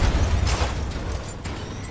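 A loud, booming blast with heavy low rumble and a crackling burst, sustained for about two seconds, an explosion in Fortnite.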